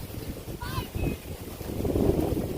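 Strong wind buffets the microphone in low rumbling gusts at an outdoor kite-flying gathering, steady and swelling louder toward the end, with a brief voice or whistle-like tone partway through.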